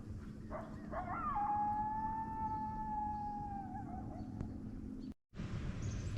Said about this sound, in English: Just heard a coyote or something.